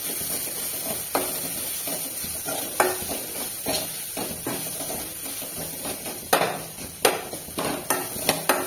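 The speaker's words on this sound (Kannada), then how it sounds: "ಆಮೇಲೆ ಚೆನ್ನಾಗಿ ತೆಂಗಿನಕಾಯಿಯನ್ನು ಹುರ್ಕೊಳ್ಬೇಕು ಎಣ್ಣೆಯಲ್ಲಿ." Grated coconut fries in oil in a pan, a soft steady sizzle broken by occasional scraping clinks of a spoon stirring, close and fairly quiet with no voices.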